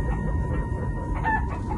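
Chickens in the video game Minecraft Story Mode clucking and crowing, a brief, close burst of fowl calls over a low background rumble.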